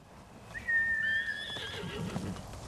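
A horse in the video game Ghost of Tsushima neighs once, a rising then falling whinny lasting about a second, followed by a few soft hoof and rustling sounds.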